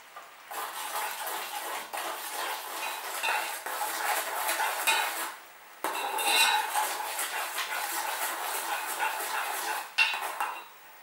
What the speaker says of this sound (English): all you want is to stir until all the sugar solids have dissolved